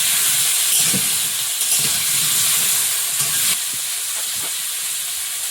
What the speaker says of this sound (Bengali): এর মধ্যে পুঁই ডাঁটা আর আলু আর কুমড়ো এই তিনটে একসঙ্গে ভাজবো